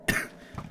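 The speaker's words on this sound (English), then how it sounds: "I'm coughing." A single short, close cough from an adult man breaks a quiet moment, followed by a faint low rustle.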